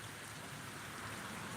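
Rain pouring down during a severe thunderstorm in Pittsburg, Kansas, a dense, even hiss of drops hitting surfaces, steady and fairly faint, with no voices.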